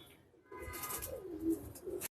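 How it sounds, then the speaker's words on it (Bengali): Fancy pigeons with feathered feet coo softly in a quiet setting, a low burbling call starting after a brief hush and swelling slightly before cutting off. "খুবই সুন্দর কবুতর এগুলো"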